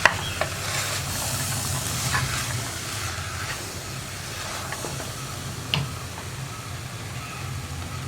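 Chickpeas are stirred into masala in a pressure cooker for kadala curry, a soft continuous sizzle with scraping strokes of the spoon and a few sharp taps against the pot.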